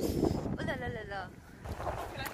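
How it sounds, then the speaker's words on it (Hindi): Cold wind blows steadily across the microphone in a park, a loud continuous rumble and gusting hiss, with a voice speaking partway through. "हवा चल रही है ठंडी ठंडी"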